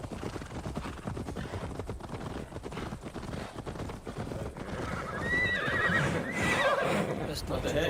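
A horse in the Viking-era game Assassin's Creed Valhalla whinnies loudly near the end, following steady clip-clop hoofbeats and battle noise, with a voice talking over the scene.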